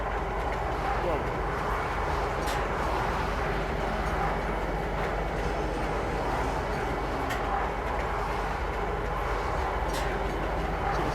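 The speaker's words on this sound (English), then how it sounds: "You can transverse from one side to the other via these trains." A metro train in the Star Citizen game city of Lorville rides along with a steady, continuous rumbling roar and faint periodic clacks, a constant loud drone throughout.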